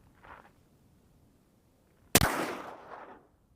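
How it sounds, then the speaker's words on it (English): A single sharp, loud crack from a custom long-range hunting rifle in .300 PRC fitted with a Trigger Tech Diamond trigger, with a short echoing tail outdoors, preceded by faint quiet background. "first shot's out of the rifle"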